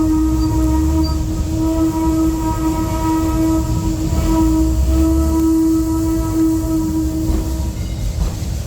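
A train rumbles steadily past close by, with a sustained low drone and a long tonal whine from the wheels or horn throughout.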